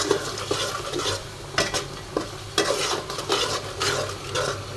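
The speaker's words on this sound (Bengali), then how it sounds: "তো এখন আমি এই তো মশলাটা দিয়ে দিচ্ছি বিরিয়ানির।" Biryani spice mix frying in a pot for chicken biryani, with steady sizzling under repeated scraping stirs and occasional clinks of a spoon against the pot, close and moderately loud.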